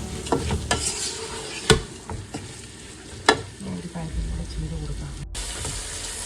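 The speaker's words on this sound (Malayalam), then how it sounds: "അപ്പം സവാളയുടെ വെള്ളമൊക്കെ ഒന്ന് പറ്റി ഏകദേശം ഒന്ന് വഴന്ന് വരുന്നിട്ടുണ്ട്." Onions sauté in a pan for chicken biryani, a soft frying hiss broken by a few sharp spoon knocks and stirring scrapes, with a short silent gap near the end.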